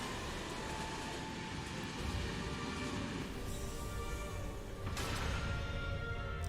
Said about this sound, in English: Got a railway here too.